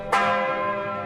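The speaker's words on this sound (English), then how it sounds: "The church bells ring as they have for centuries, calling people to reflection." A single deep bell strikes loudly, its rich metallic tone ringing out and slowly fading.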